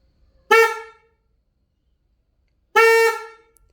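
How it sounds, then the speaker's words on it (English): Two short, loud horn blasts from a replacement horn on a Honda Rebel motorcycle, separated by a pause of about two seconds, each a steady buzzy tone cutting off abruptly, with silence around them. "let's just get that key and just check if this horn actually sounds"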